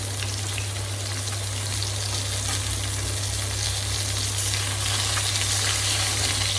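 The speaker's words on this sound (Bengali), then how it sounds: "তো পেঁয়াজটাকে আগে একটু হালকা ভেজে নিই।" Onions frying in oil make a steady, dense sizzle that runs unbroken throughout, with a low hum underneath and no one speaking.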